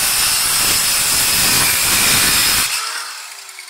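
A rail-guided utility knife slices through a wooden board, giving a loud, continuous rasping, hissing scrape that runs steadily for a few seconds and then stops abruptly, leaving a faint fading tail.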